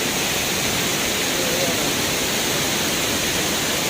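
A tall waterfall roars as a dense, loud, unbroken wash of falling water, filling the scene at close range with no pauses and no voices over it.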